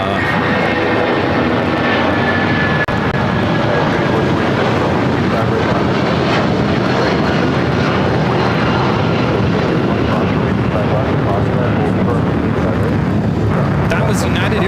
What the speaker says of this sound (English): That was United Airlines 1297 taking off to Chicago on the 757-200.